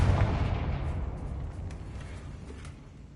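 A Confringo fire spell cast in Hogwarts Legacy sets off a deep booming blast that rolls out and slowly fades, followed by faint crackling debris.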